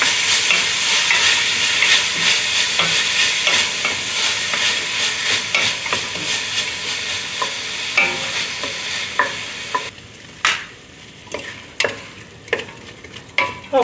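Celery, garlic, lemongrass and onion are stirred in a pot for seafood chowder, with a steady sizzle and continuous scraping strokes, then a quieter stretch of distinct, separate spoon scrapes near the end.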